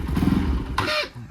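A motorcycle engine, its faulty start switch just cleaned, revs as the rider pulls away, a loud steady rumble that rises into a brief higher roar near the end.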